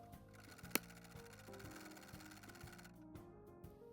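A sewing machine stitches through six layers of fabric for a 1920s dress waistband, its motor humming and needle chugging in a quiet, steady rhythm with a single sharp click.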